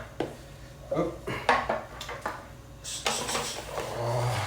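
Plates and dishes clatter and clink as they are handled, a series of sharp ceramic knocks and scrapes spaced irregularly, close by, with a louder rattling run near the end.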